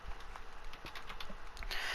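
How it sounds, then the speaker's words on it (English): Soft computer keyboard and mouse clicking during a Minecraft Bedrock Edition building session, a faint irregular patter of small clicks over steady background noise. "I'm pretty sure you can hear the clicking in the background, I'm using my keyboard and mouse today"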